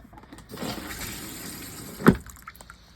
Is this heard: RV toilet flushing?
yes